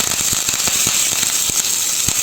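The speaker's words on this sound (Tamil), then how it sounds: "கடுகு போட்டாச்சு நல்லா பொரியட்டும் கடுகு நல்லா வெடிச்சிருச்சு" Mustard seeds pop and crackle in hot oil while tempering for a coriander seed chutney, dense rapid snaps close by over a steady sizzle, with no talk.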